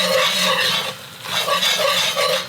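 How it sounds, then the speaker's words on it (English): A whisk scrapes steadily through an oil and flour roux darkening to chocolate brown in a pan, a continuous rhythmic stirring rasp with a faint sizzle, close and loud with no talking. "You need to whisk it continuously."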